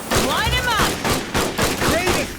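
Gunfire in the video game Aliens: Dark Descent, a dense continuous volley of shots with metallic whines and screeches woven through the loud barrage.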